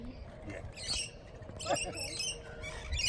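Green, red and yellow parrots give harsh, scattered squawks and calls in quick bursts, close by, over a noisy background with faint human voice.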